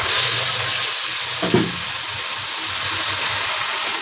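Onion, tomato and peas frying in oil in a pan for masala shavige bath, a steady close sizzle with a brief stirring clatter near the middle.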